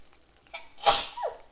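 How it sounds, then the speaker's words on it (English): A single person sneezes indoors, with a short intake of breath followed by a sharp, burst-like sneeze that is fairly quiet and close. "I have to sneeze."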